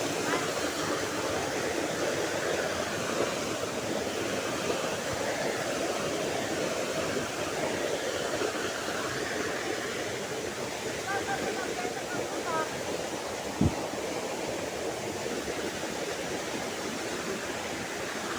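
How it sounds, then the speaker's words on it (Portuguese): Rushing water of the Saltão waterfall near Itatinga, a dense steady roar filling the whole stretch, close and loud without pause. "Cachoeira do Saltão, pessoal."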